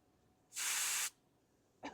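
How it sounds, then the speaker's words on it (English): Gas vents through a Fuel Keg bottle valve opened by an aftermarket Wadia filling nozzle: one loud, sharp hiss lasting about half a second, then a brief, fainter puff of escaping gas with no talking. "we have to make sure that it will open the venting circuitry on the Fuel Keg bottle"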